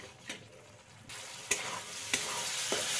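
A handful of green peas stir-fried with spices in oil, a quiet hiss that swells into a steadier sizzle, punctuated by a few sharp spatula scrapes against the pan.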